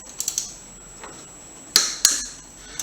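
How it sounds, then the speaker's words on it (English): Ratchet clicks from loosening a bolt on a Mazdaspeed engine: a quick burst of three ticks, then two louder, sharper metallic clicks about a third of a second apart, close up, with a faint click at the end. "I'm gonna loosen this bolt up right here"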